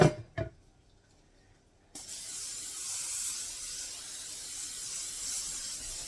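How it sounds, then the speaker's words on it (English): After a couple of brief clicks and a pause, a can of cooking spray hisses steadily onto a baking pan for several seconds, close and fairly soft. "And I am going to spray my pan."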